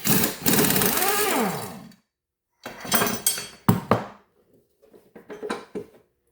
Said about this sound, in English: Now here's this tiny little 1/4 inch line for my air gun